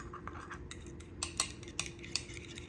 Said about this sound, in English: Now we're just gonna stir this up.